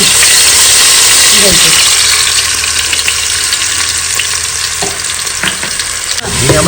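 Fish frying in oil in a village kitchen for spicy fish pickle, a loud continuous sizzle and crackle with a few utensil scrapes and knocks, no voices.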